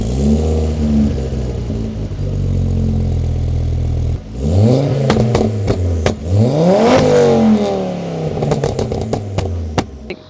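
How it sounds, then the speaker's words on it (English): Ford XR5 Turbo with a 5-cylinder turbocharged engine, close and loud: a steady idle, then a series of sharp revs rising and falling with crackles from the exhaust, ending in quick blips. "5-cylinder turbocharged engine. It's just such a unique sound, and I just can't get away from it."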